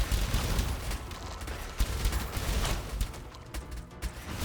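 Fire-element explosions in a loot-heavy roguelike survivor game crackle in rapid, overlapping bursts, a dense, continuous barrage of blasts at fairly low volume.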